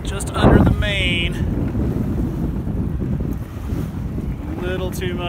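Sailboat heeling in strong wind on Lake Waccamaw, with heavy wind buffeting and water rushing steadily past the hull, a person calling out briefly near the start and end.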